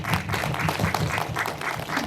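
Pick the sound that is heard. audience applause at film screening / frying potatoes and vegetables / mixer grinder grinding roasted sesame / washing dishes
audience applause at film screening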